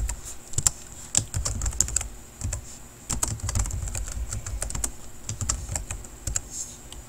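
Computer keyboard typing while entering WordArt title text in Publisher 2010: a close, uneven run of clicky keystrokes with small gaps and no voices.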